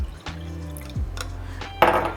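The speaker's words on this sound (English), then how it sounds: "I'm gonna add the water into the can" Water splashes into an emptied tomato soup can in a kitchen, a few short pours and drips with a brief louder gush near the end, close up and with nobody talking.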